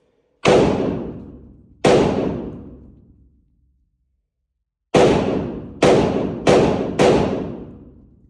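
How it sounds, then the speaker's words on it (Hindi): A TISAS ZPT 556 rifle fires Turkish-made Turan ammunition at a shooting range: sharp, loud reports with long ringing tails, two spaced apart, then a quicker cluster after a pause. "उसे अभी हम थर्ड मोड में तुरान के मेड इन तुर्की के 5 राउंड्स फायर करने जा रहे हैं"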